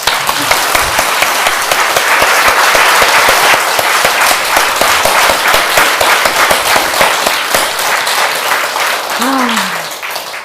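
A large congregation at a church prayer meeting claps loudly and steadily in dense, continuous applause, with a voice rising briefly near the end.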